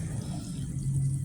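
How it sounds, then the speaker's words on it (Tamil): Water poured into a pan of dry tofu curry, a steady low splashing and trickling that runs close and unbroken for about a second with no talk over it. "தண்ணி கொஞ்சம் ஊற்றிக்குவோம்."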